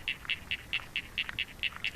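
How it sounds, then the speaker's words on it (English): A lesser water boatman stridulates underwater in a pre-recorded take, giving a steady train of about nine faint, evenly spaced chirping pulses, alone with no voices. "That is the sound of an aquatic insect calling with a technique called stridulating."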